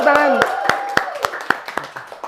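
Classroom clapping during a teaching practice session follows a poem recitation, with a burst of scattered hand claps in a loose rhythm that thin out over about two seconds, under a sustained voice.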